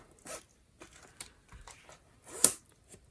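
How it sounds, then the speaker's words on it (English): Zipper on a plastic notebook pouch opened in a few short separate pulls, close and crisp, ending in one louder, sharper zip near the end. "So the zipper pouch has"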